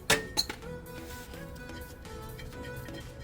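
Metal clinks as a front brake rotor comes off a Toyota C-HR: two sharp close knocks at the start, then a quieter steady background of faint rattles.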